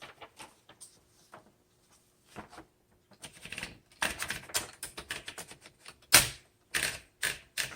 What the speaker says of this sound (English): Let's go ahead and put in a piece of paper and start typing.